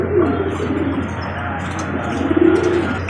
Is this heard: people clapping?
no